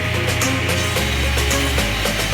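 A multi-blade ripping saw machine cuts round logs, a loud continuous grinding roar with a pulsing rhythm and shifting low hum as the blades run through the wood.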